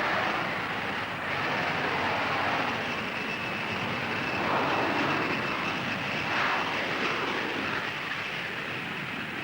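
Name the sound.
Canadian Lockheed F-104 Starfighter jets formation takeoff at airshow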